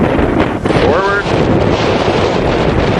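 Strong wind buffets the microphone on a homemade backyard rollercoaster, a constant loud low rumble filling the whole span, with a brief whine of machinery near the middle.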